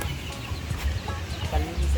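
Chickens cluck softly in the background amid a steady low rumble and faint voices, with occasional brief clucks rising slightly above the noise.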